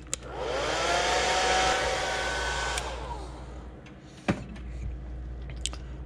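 A heat gun or dryer blows on an airbrushed crankbait lure, a loud close whooshing roar for about three seconds that then fades away, followed by a sharp click and a few small handling knocks.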